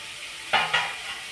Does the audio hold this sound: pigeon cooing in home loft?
no